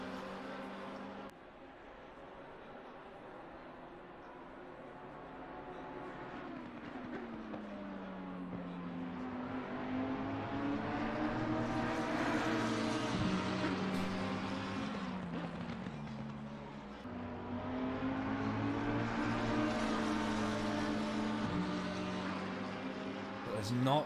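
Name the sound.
Lamborghini race car engine at Donington Park, racing video game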